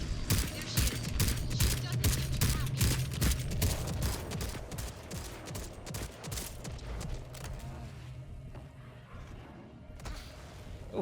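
Rapid carbine gunfire hammers a T-Rex in the video game Second Extinction, loud bursts of repeated shots running close together, then easing toward the end with game sounds behind.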